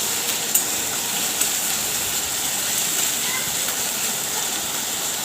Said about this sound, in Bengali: পেঁয়াজ, আদা, রসুন বাটাটা আমি দিয়ে এবার ভালো করে নাড়ব।